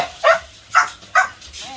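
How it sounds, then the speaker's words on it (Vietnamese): A four-month-old Belgian Malinois puppy, nearly 20 kg and from guard-dog breeding stock, gives three sharp, close barks spaced about half a second apart. "Đây là dòng chó bẹt ghê bỉ Malinois ha."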